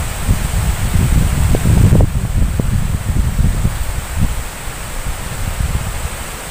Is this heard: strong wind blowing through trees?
yes